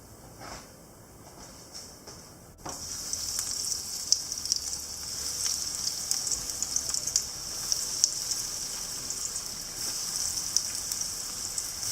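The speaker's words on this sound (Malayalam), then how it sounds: "ഇനി അടുത്ത ബാച്ചും ഇതുപോലെ ഫ്രൈ ചെയ്തെടുക്കാം" Chicken croquettes deep-fry in hot oil with a steady, bright sizzle and crackle, quiet at first, then jumping louder as a new batch hits the oil and continuing evenly with scattered pops.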